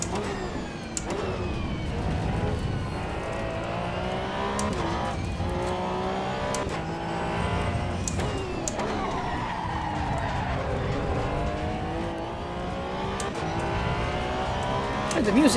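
Flat-six race car engine in Assetto Corsa Evo at the Nürburgring, loud and continuous, with rising and falling revs through gear changes, sharp shift cracks and tire squeal; a voice talks over it.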